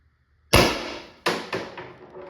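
Valken M17 airsoft gun firing with an LL4D HD24 kit at 550 psi: one sharp, loud close shot followed by two quicker clacks of the bolt cycling, then a fading rattle.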